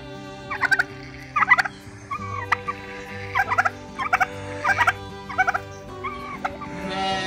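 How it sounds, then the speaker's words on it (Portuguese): A turkey on a small farm with young animals gobbles in repeated rattling bursts, about seven calls close by, with other farmyard birds clucking and calling in the background. "E esse peru?"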